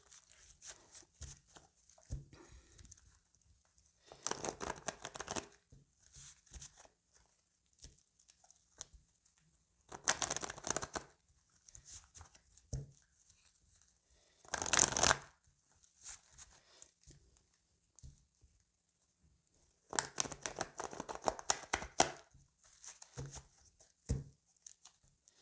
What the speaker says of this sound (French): je coupe en deux parce que le paquet est quand même très très gros et je voudrais que ce soit bien mélangé